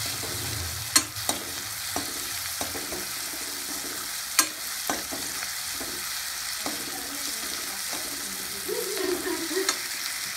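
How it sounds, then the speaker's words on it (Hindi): Onion and tomato fry in a tempering pan with a steady hiss of sizzling oil, broken by a few sharp clinks and scrapes of stirring close by. "तो चलो तुड़का लगाते हैं अब इसको"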